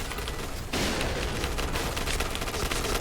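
Dense, continuous burst of rapid gatling gun fire in a shooting video game, starting abruptly after a short lull and roaring on loudly without pause.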